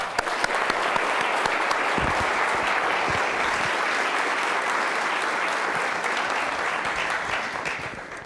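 Sustained audience applause welcoming Dr. Richard Smalley before his talk on energy, a dense, steady clapping from a large crowd that holds even throughout and thins slightly at the end.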